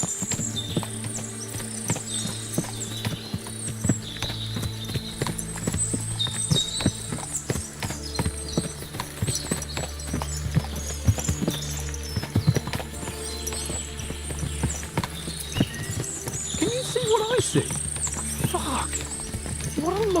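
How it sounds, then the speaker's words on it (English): Many horses clip-clop on hard ground in the video game Kingdom Come: Deliverance II, a busy, continuous patter with occasional whinnies and background murmur. "What a lot of horses!"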